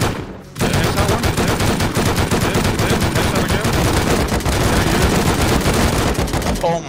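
Loud, sustained automatic gunfire from the video game Rust, rapid dense bursts continuing for about six seconds after a brief quiet start, with voices talking over it.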